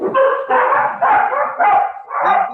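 Several puppies bark and yip close by in five quick, excited bursts.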